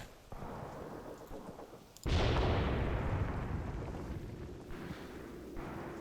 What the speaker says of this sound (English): Okay, let's get some more artillery in.